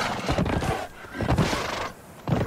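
A horse in the video game Conan Exiles whinnies and trots, with three loud bursts of neighing and hoof clatter spaced about a second apart, heard up close without talk.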